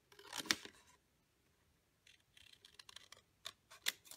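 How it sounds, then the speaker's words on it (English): Scissors cutting out a pink paper piece for a stamped thank-you card: a crisp snip, a pause of near silence, then a run of small quiet snips and rustles, close and alone. "I'm going to cut out the pink part of the thank you."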